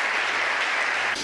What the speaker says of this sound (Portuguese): Os que podem dar a Jesus uma linda salva de palmas